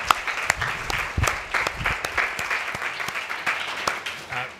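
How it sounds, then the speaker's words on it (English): A second round of applause at a National Arts in Education Week kickoff: a room of people claps steadily and loudly, with individual sharp claps standing out, for several seconds without pause. "I think a second round of applause will call there"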